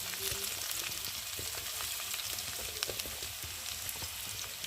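Potato pieces frying in oil in a pan give a steady, dense sizzle with faint crackles and occasional scrape-like ticks throughout, no voices.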